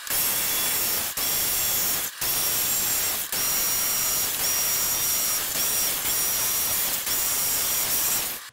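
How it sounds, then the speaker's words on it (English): Continuous loud buzzing saw noise with a few brief pauses, steady and close: a jigsaw cutting through a plastic bucket. "So the jigsaw made real easy work of that."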